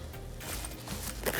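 A zipper on a small compartment of a Happ Levy backpack diaper bag is pulled in a quick close rasping run lasting just over a second, with no talking.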